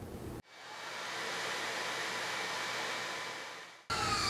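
A vacuum cleaner pulls air through an Oneida Low Profile Dust Deputy cyclone separator, a steady close roar that starts abruptly, holds level for about three and a half seconds, then cuts off sharply.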